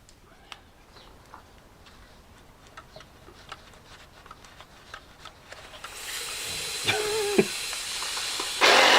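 Air hissing out of a Halfords tyre inflator under repair, a soft hiss that swells louder in the last few seconds, with scattered small ticks and clicks of handling earlier on and no talking.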